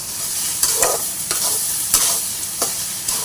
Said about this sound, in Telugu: దీంట్లోనే అల్లం వెల్లుల్లిపాయ పేస్ట్ వేసేసుకోండి. చక్కగా ఫ్రై చేసుకోండి.